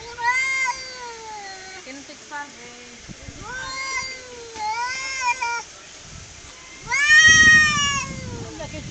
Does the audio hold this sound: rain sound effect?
no